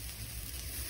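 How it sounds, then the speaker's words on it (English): Filet mignon steak sizzling as it sears in a smoking-hot pan, a steady low crackle and hiss that holds at an even, moderate level throughout with no talking. "Once I get some smoke, I'm putting the steak down, and you immediately hear some sizzle."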